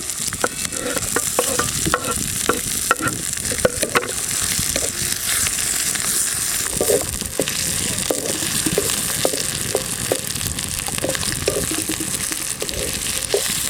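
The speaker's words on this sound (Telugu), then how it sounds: "పచ్చిమిర్చి వేసి ఇట్లా ఒకసారి ఇట్లా కలపాలండి" Green chillies frying in oil in a pan while being stirred, a dense crackling sizzle with rapid scraping strokes of a spoon, loud and close, continuous throughout with no talking.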